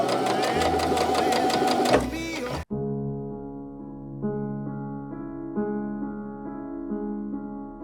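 Sewing machine stitching fabric, a steady rapid mechanical whir that cuts off abruptly, followed by a quieter hum with occasional clicks, heard up close.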